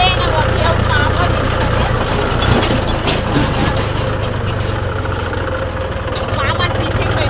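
A tractor engine idles nearby with a steady low, throbbing chug and a faint knock, continuous throughout while people talk over it.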